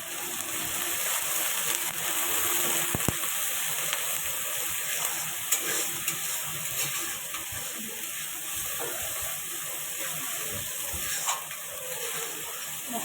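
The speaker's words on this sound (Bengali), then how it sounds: "মশলাটা ভালো করে কষিয়ে নেবো" Spice paste of turmeric, chili and salt fries in a pan for a Bengali fish curry, giving a steady, even hiss of sizzling throughout with no talking.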